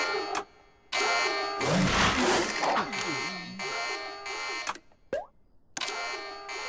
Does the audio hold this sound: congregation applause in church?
no